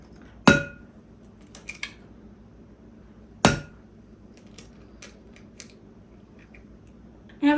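Eggs for low carb brownies are cracked in a home kitchen, two sharp distinct taps against a hard edge a few seconds apart, each followed by faint light clicks and shell fiddling in a quiet room.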